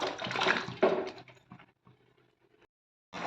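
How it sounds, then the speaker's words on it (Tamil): Tomato chicken gravy boils in a nonstick pan: a loud watery rush at first, then sparse intermittent bubbling that fades into a brief silence before another burst returns. "நல்லா கொதி வந்துருச்சு"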